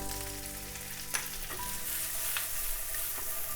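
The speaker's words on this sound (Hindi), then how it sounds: "टॉस करेंगे थोड़ी देर हाई हीट में ताकि ये फ्लेवर निकले" Kadhai paneer fries on high heat, giving a loud, steady sizzle with a few sharp clinks of the pan and spatula as the pieces are tossed.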